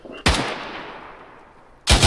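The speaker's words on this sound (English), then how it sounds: "Sounds like a sniper." Sniper rifle shots in a video game, two sharp loud cracks about one and a half seconds apart, each followed by a long fading echo tail, nearby and alone without talk.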